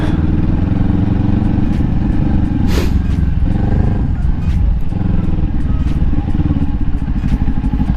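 A Ninja 400 motorcycle engine runs while the rider parks in Florida, a loud, steady, rumbling drone mixed with rough broadband noise and a few clatters, with no pauses.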